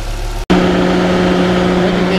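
VW Microbus with a 2.3 engine idling after cooling system repair, a steady close hum with a constant low tone, briefly cut out then continuing evenly.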